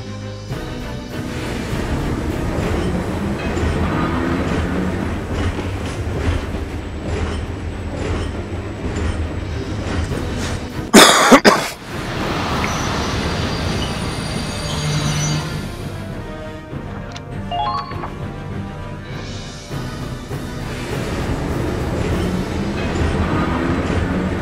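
A train rolls past in the Valkyria Chronicles 4 video game at a railway battle, a steady loud rumble with clattering wheels that fills the scene, a sharp burst midway, then fades and returns.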